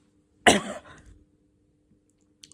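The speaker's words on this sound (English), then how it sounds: "I've got a sore throat and a bit of a cough at the minute" A single harsh cough from someone with a sore throat rings out close and loud, trailing off into a brief rasp, then quiet.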